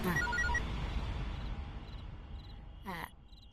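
A telephone rings in a home scene from a Tamil TV serial, with repeated electronic ring tones heard fairly softly under background noise, then a brief chirp near the end.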